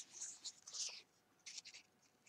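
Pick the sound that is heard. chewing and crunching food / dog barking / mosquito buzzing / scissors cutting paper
scissors cutting paper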